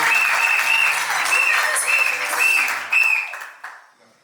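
Guests at a civil wedding ceremony applaud the second witness with a loud, sustained round of clapping and a few bright tonal cries, and the sound tapers off and fades out near the end.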